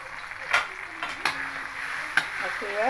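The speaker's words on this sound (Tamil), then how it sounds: "நல்ல எண்ணெயில் நல்லா வேக விடுங்க கொஞ்ச நேரம்" Chili paste frying in sesame oil in a pan, a soft continuous sizzle with a few sharp stirring knocks from a utensil against the pan, close and moderately quiet.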